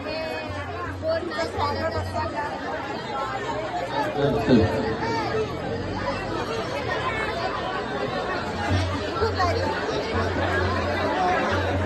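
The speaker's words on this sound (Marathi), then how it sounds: "खूप गर्दी आहे।" Dense crowd chatter at a crowded village feast, a communal bhandara meal with women serving food, many overlapping voices forming a steady hubbub throughout, with a nearby voice speaking over it.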